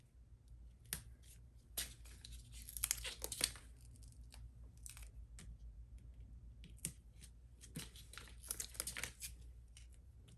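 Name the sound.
applying foam tape to a paper card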